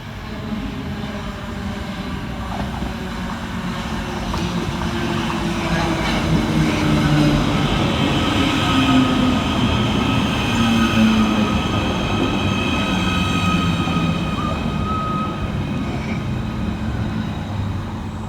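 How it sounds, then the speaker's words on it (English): A Merseyrail Class 777 electric train pulls into a station with a steady rolling rumble, faint wheel squeal and rising and falling electric motor whine that grows louder midway, with no talking. "Arriving next into the station is 777-025 with the 1526 Merseyrail electric service from Chester through to Liverpool Central."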